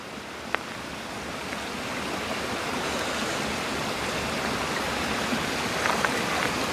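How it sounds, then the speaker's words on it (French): A small stream flows steadily nearby, a constant rushing babble of water with a few faint clicks on top. "Il y a un petit ruisseau qui est juste là, vous devez l'entendre à la caméra."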